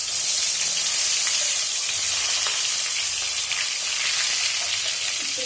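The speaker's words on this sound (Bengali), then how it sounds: "এখন আমি বেগুনগুলোকে আগে ভেজে নেব" Eggplant pieces fry in hot mustard oil in a pan, a steady, close, bright sizzle with crackling pops and occasional stirring scrapes, continuing evenly without any talk.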